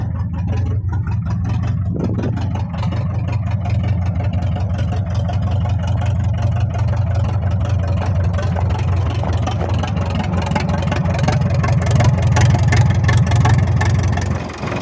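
Loud, raw engine running with no muffler, a steady low rumble with rapid pulsing that holds throughout and grows slightly louder near the end, with no talk.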